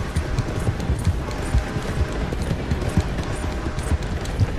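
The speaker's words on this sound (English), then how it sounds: "this horse is so slow that he's not going to be able to catch the train" Horse galloping in Red Dead Redemption 2, a steady rapid patter of hoofbeats at moderate level throughout, alone without talk.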